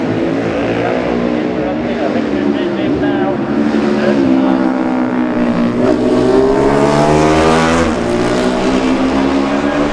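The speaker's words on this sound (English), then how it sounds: "Danny Webb on his Norton, followed by Davey Todd, number 12, on a Honda" Norton and Honda racing motorcycles at the 2018 Classic TT junior race, loud engines roaring close by with rising and falling pitch as they pass, a commentator talking over them.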